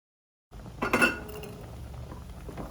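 A spoon clinks against a cooking pot as ground bisi bele bath powder is added to boiling rice and lentils, a short close metallic clatter after a moment of silence, then a low simmering background.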